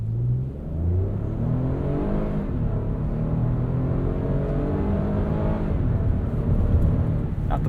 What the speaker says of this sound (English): Let's do a 0 to 60 here where we've got an open stretch of road.